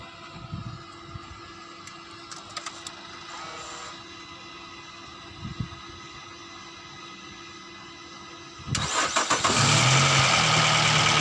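A car engine is cranked with a 4-in-1 jump starter with compressor; quiet background with faint clicks gives way to the engine starting near the end and settling into a loud steady idle close by.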